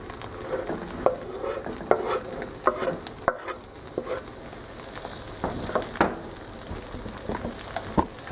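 Garlic and vegetables for spaghetti sauce sizzle in a pan, a steady crackling fry broken by irregular scraping and stirring clicks, close and fairly loud with no talking.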